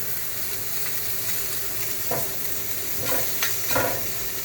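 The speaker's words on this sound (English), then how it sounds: "I'm just going to caramelize these a little bit" Food caramelizes in a pan for pork and beans, giving a steady close sizzle with a few soft scraping stirs near the end, no voices.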